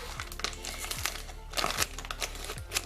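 Crinkling and crackling of a package of oracle cards as heavy tape and wrapping are pulled open, close up, with irregular rustles and small tearing sounds.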